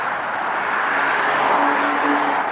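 An Aston Martin Vantage from the wrecked Hollywood Hustler build, on its first shakedown run, gives a steady, fairly loud engine drone with a faint higher tone creeping in near the end.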